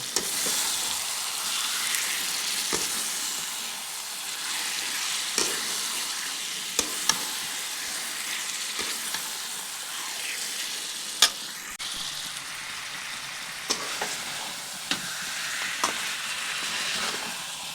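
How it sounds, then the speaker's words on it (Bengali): Marinated chicken sautéing in spiced masala fries with a steady, close sizzle, broken by frequent sharp scrapes and clacks of stirring throughout, with no voices. "যে মাংসটি ম্যারিনেট করে রেখেছিলাম সেটি এর মধ্যে দিয়ে দিচ্ছি তো দিয়ে ভালো করে দশ মিনিট কষিয়ে নিচ্ছি"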